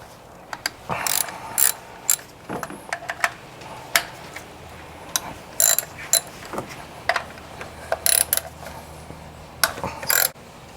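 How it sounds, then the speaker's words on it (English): Ratchet loosening 10mm bolts on a 2018 Toyota Corolla during 90k maintenance, quiet bursts of rapid clicking pawl ticks repeating in short irregular runs with pauses between, no talk. "now the next step is to loosen up all the 10mm bolts"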